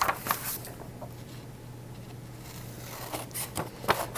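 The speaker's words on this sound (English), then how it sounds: "Now I'm going to take my scissors. I'm going to carefully cut that out." Scissors cut paper along a drawn line in a quiet room, giving soft snips and crisp rustling clusters near the start and end with a quieter stretch in between.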